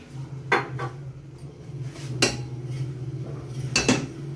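A cooking pot on a hot stove clanks sharply three times as oil goes in, metallic knocks spaced out over a low steady hum.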